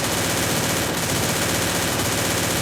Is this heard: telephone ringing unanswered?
no